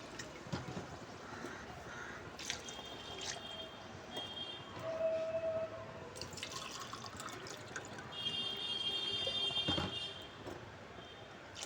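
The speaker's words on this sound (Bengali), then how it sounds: "আর এতে আমি দিয়ে দেব চার গ্লাস পানি" Water poured from a glass into a cooking pot of rice for egg biryani, a steady trickling and splashing stream lasting several seconds with drips, close and moderate.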